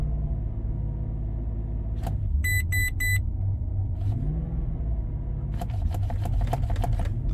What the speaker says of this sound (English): You can see it's just revving really weirdly. It's idling really high.